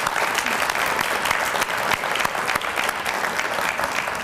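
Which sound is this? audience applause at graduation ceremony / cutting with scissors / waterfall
audience applause at graduation ceremony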